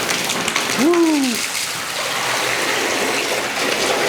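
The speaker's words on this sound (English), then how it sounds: "The water's pouring straight down right into our drain where we were aiming before." Water from a freestanding bathtub faucet pours straight down into the drain, a steady close rushing splash. Someone exclaims briefly over it near the start.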